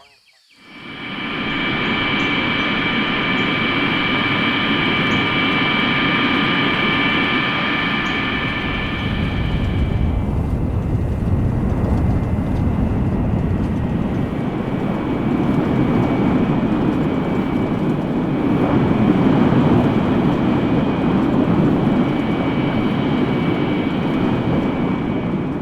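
A Scandinavian Airlines MD-81 airliner's engines at full takeoff power on the runway produce a steady, loud roar with a high whine that fades about halfway, leaving a broad rumbling drone.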